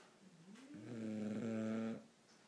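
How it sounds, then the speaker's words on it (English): An English bulldog snores in one long, rumbling drawn-out breath that swells and then cuts off, close and alone in a quiet room. "You could hear her snoring away."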